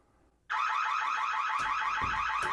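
After a moment of quiet, a Wyze home security alarm, triggered by a door opening, blares suddenly, loud and shrill, holding steady, with a few faint knocks and thuds underneath.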